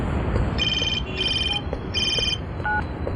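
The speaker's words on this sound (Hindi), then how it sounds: "फोन उठाओ, जल्दी उठाओ।" Mobile phone ringtone ringing alone, a repeating electronic melody in several bursts with short gaps, steady and moderately loud against a quiet background.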